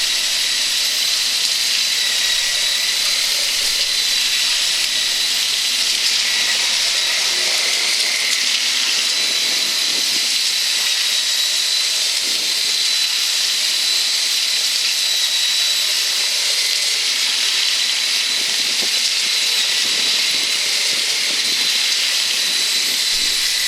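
A homemade DIY concrete mixer is turned by a Bosch drill, giving a constant loud hissing whine with a faint churning rumble underneath. It holds steady and unbroken for the whole stretch, with no talk.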